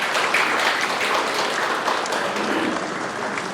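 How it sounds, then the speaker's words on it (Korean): Audience at a literary concert applauding, a dense, steady wash of many hands clapping that holds evenly from start to finish at moderate distance. "다시 한번 큰 박수 부탁드립니다."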